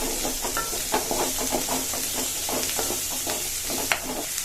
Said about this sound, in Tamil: வெங்காயம் வதங்கிட்டுங்க கொஞ்சம்